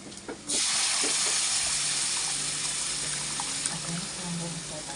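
A loud, steady sizzle bursts out as cooked lentils hit hot oil tempering for sambhar, hissing continuously and fading slightly over several seconds.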